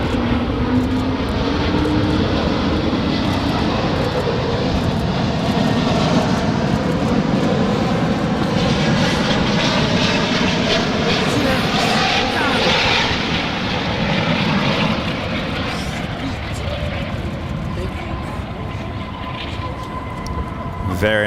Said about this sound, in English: Very nice landing there. That was a smooth landing.